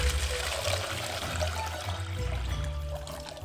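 Water pours into a bucket holding an ostrich egg in a home kitchen: a steady, close, splashing gush that runs for several seconds without a break, with no talk.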